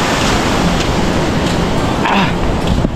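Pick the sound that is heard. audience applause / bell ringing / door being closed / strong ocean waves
strong ocean waves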